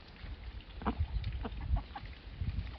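Scattered soft clucks from a few chickens, with a low rumble of wind underneath throughout.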